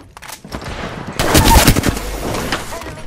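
Burst of rapid video game gunfire, loud and close, with overlapping shots and a dense crackling volley for the last two seconds.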